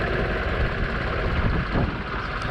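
A tractor with a modified broadcast sand spreader idles while standing still in the rain, giving a steady, fairly close low engine rumble with rain hiss over it and no talking.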